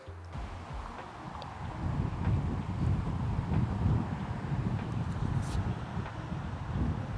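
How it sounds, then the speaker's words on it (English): Strong wind buffets the microphone on a long golf course, a loud, continuous low rumble and rush that lasts the whole time, with no voices over it. "Wind is howling off the right-hand side."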